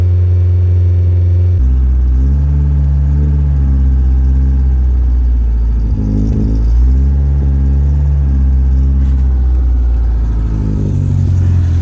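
A barn-find Ford Escort Mk2 engine cranks and catches after decades unused, then settles into a steady, loud rumbling run with low mechanical throb and slight revving.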